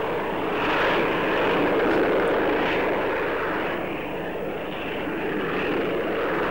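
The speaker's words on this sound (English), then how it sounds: "the British proved that jet lift aircraft, fitted with the unique Pegasus engine and its swiveling nozzles, can fly combat missions" Harrier jump jet powered by a Pegasus engine with swiveling nozzles, heard as a steady, loud broadband jet roar that holds constant with a slight swell and fade, no voices.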